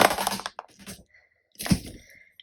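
A sharp snapping crack as a Live Love Posh planner cover is removed, then quieter rustles and small clicks, followed by a second loud crack; close and brief.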